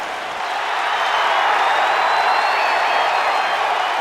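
A big arena crowd in the WWE 2K wrestling game roars and applauds in New York as a dense, steady wash of cheering that stays loud and even throughout, with no clear voices on top.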